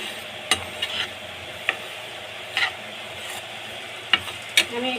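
Poppy seeds are dry roasted in a pan for biryani masala, a quiet, continuous soft sizzle broken by scattered scrapes and taps of a spoon stirring the seeds.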